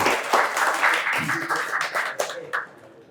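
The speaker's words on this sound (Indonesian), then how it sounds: "Bisa beri tepuk tangan yang meriah untuk Koh Denditan." Audience applause for a guest at an Islamic talk show about converts, a lively burst of clapping that runs for about two and a half seconds and then fades to a lighter patter.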